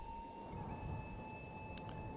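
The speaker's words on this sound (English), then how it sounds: "It's raining, they're soaked." Steady rain with rolling thunder in the medieval city-builder game Manor Lords, a continuous dense wash of downpour that holds at an even level throughout with no voices over it.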